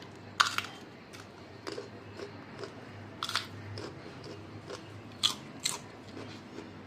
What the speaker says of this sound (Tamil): பிஞ்சு வெண்டைக்காய் வாங்கி நல்லா வாஷ் பண்ணிவிட்டு அப்படியே மென்று நம்ம சாப்பிட்டுக்கணும்